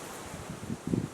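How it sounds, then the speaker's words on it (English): Strong gusty wind outdoors just before a storm, rushing and rustling across a microphone with gusts swelling louder toward the end of a brief moment, with no talk. "It's getting very windy here."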